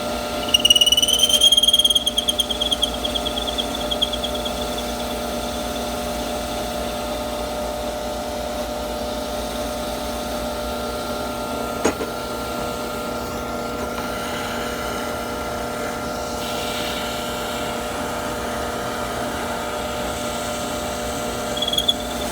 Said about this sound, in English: got the hole drilled